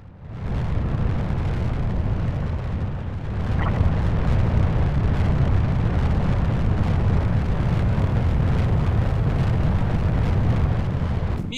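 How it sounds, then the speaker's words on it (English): A rocket engine roars during a launch in Kerbal Space Program as the rocket slowly starts to climb, a steady, loud broadband rumble that swells slightly a few seconds in and holds with no talking. "But once enough fuel had been burned off, the rocket finally started to climb."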